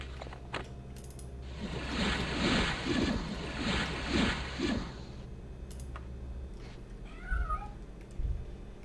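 A cat meows several times in a row in the Daggerfall role-playing game, the calls close and rhythmic over a low steady background hum, followed by a faint higher chirp.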